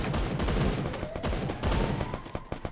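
Gunfire in the Free Fire battle royale game, a dense volley of loud rapid shots with sharp repeated cracks, continuing in bursts with no voices.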